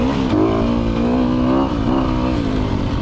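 A 2020 Sherco 300 SEF factory dirt bike engine revs hard and close, a loud continuous buzzing drone that rises and falls in pitch with the throttle, with no speech.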